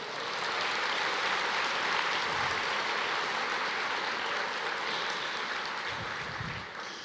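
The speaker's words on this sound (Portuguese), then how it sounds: "Você pode aplaudir o Senhor?" Sustained audience applause in a church service, a dense, steady wash of many hands clapping at even loudness for several seconds before easing off at the end.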